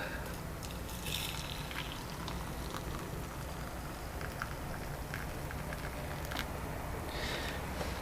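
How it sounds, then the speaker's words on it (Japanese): Hot water poured over a small pinch of tea leaves on rice for ochazuke, a steady close trickling stream with faint splashy bursts, continuous and fairly quiet. "そして上にお湯を注ぎます。"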